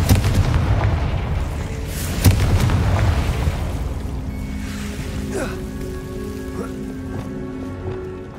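Fiery blasts of the Confringo spell in Hogwarts Legacy boom close and loud in the first seconds, one sharp crack standing out, then settle into a crackling, rain-like rumble as game sounds continue.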